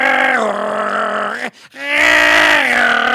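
A voice imitates a woman snoring with two long, loud, droning groans, split by a short gasp of a breath between them.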